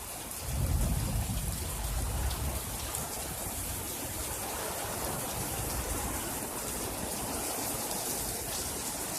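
Steady rain pours during a thunderstorm, a broad continuous hiss that swells slightly early on with a low rumble, then holds even and fairly loud throughout.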